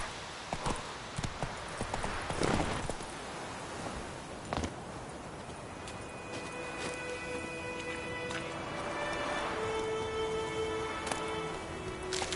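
Roach the horse in The Witcher 3 clip-clops along with steady hoof falls, overlaid with game ambience and some tonal music or effects building later; no talk is heard.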